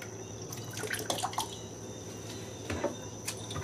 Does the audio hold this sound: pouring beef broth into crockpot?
yes